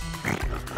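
People imitate sheep snoring with a short, nasal snort that sounds almost piglike, heard as one brief burst during a children's Bible-story exercise.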